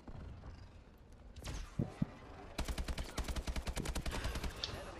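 Rapid bursts of automatic gunfire from the video game Call of Duty: Advanced Warfare, a fast regular stream of shots after a few isolated bangs, loud and close.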